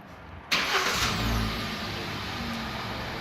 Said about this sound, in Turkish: Arabayı çalıştıralım